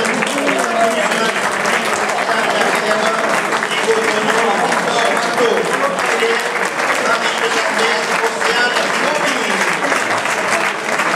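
Steady, dense applause from a crowd at a bike race podium ceremony in Mauvezin, continuous and loud throughout, with an announcer's voice speaking over it.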